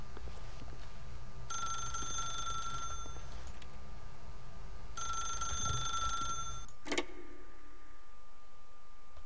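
A telephone rings in the video game The Stanley Parable, two bursts of bright repeating trills separated by a pause, followed by a short click, all over a low steady hum with no talking.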